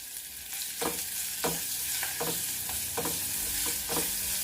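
Chopped ajwain leaves fry in a pan with turmeric for rasam, their steady sizzle broken by a regular series of scraping strokes as a spoon stirs them close by.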